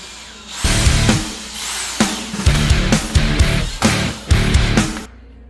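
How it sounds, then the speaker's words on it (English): A hammer drill bores into an apartment wall in several loud, close bursts, each a harsh rattling whine that starts and stops in a choppy rhythm over a few seconds. "Hammer drill, eh?"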